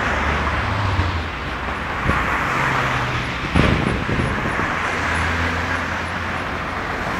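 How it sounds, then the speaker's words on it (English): Road traffic passes through a junction in Reading, England, on a Sunday afternoon, with several vehicles swelling and fading one after another at moderate distance, engines and tyre noise blending into a steady roadway hum. "Traffic coming this way."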